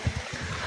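Water sloshing and trickling during a full aquarium water change, a brief close gurgling splash with no voices.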